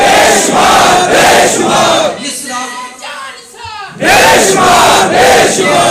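A large crowd at a Sialkot political workers' convention roars slogans in loud rhythmic bursts, a chant call briefly fading before the massed shouting surges back at full volume.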